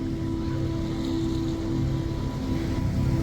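A rain-swollen river running high through Kathmandu after heavy rain, near Balaju bridge, gives a steady, broad rushing roar with no break or talk.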